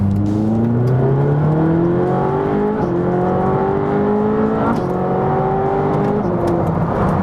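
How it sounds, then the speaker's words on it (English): A Ferrari 458 engine revving hard through rapid gear changes, loud and close, with the pitch climbing and then dropping sharply at each quick shift in a continuous snarl. "There are some aspects of the 458 that absolutely make it feel like a race car. And one of them's the gear change."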